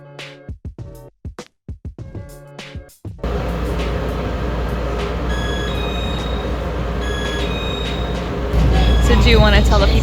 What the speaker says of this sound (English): how we got here on this train